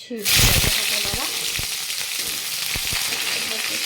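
Small cubes deep-frying in hot oil for besan curry, a steady close sizzle and bubbling throughout with occasional stirring clinks and scrapes, a voice briefly talking over it.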